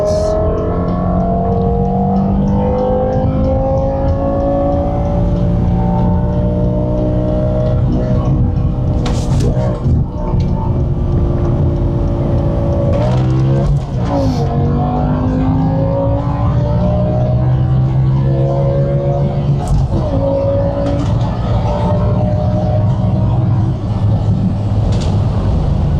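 A BMW M6 with a V10 engine accelerates in second gear, its loud, high-pitched wail climbing steadily in pitch through two long pulls with a brief shift break between them, heard from inside the car as people talk over it.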